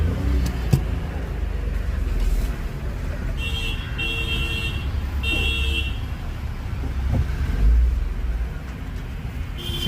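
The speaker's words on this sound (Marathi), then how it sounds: "आता गाडी चालवतोय आम्ही" Car driving along a road, a steady engine and road rumble heard from inside, with short horn toots from nearby traffic and no talk.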